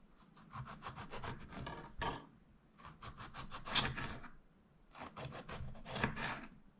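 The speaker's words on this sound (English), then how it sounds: "And then I guess I could cut the tomato." Knife cutting a tomato for a bagel lunch, three bursts of quick rhythmic sawing strokes close by, separated by short pauses, with no talk.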